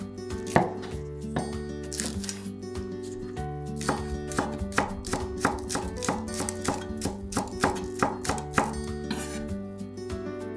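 Knife chopping spring onions on a cutting board, a steady run of crisp, close taps repeating at a brisk, even rhythm for about ten seconds, with no talking.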